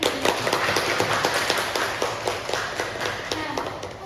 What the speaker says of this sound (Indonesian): Beri tepuk tangan untuk penyanyi.